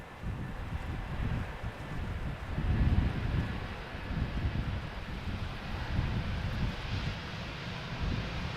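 A KLM-liveried Airbus A320neo taxiing toward the runway threshold at Schiphol: a steady broad engine roar with wind noise, swelling slightly midway and holding at a moderate, continuous level with no talk.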